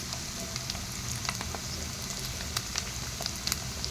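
Paneer frying in oil in a pan for palak paneer curry, a steady close sizzle with scattered crackles and pops throughout, no talking.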